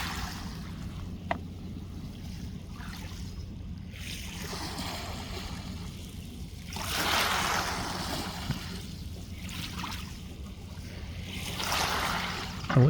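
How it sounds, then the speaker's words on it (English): Gentle water sloshing and lapping continues throughout, swelling in soft washes at a few points, with light knocks like a small boat rocking. "The waves sound nice though."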